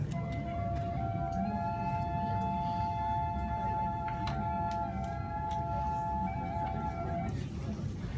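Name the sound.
ancient Roman tibia double pipe playing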